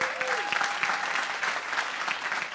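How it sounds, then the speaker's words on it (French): Crowd at the NRJ Antilles 2025 awards ceremony applauds, dense continuous clapping filling the hall, moderately loud with a brief tonal whistle-like sound near the start. "est-ce qu'on peut applaudir, s'il vous plaît, toutes ces femmes,"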